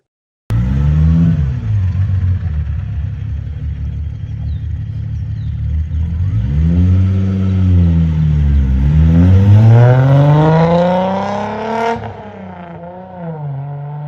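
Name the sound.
V6 engine revving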